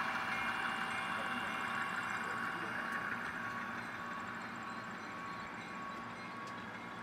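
A model train pulled by a Rivarossi locomotive runs on a layout, giving a steady, close motor whir and rail rumble that fades slightly as it goes, with no talking.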